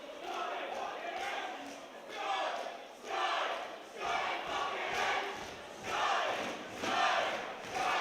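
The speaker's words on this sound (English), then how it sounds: "you can hear the crowd behind him here" Boxing crowd cheering and chanting for a hometown fighter just before a main event, loud rhythmic swells of voices rising and falling in waves, with a commentator talking over the noise.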